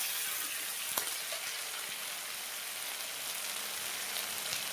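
Ground coriander, chilli, onion and garlic paste sauté in a pan for an egg and potato curry, giving a steady close sizzle with a few faint stirring clicks.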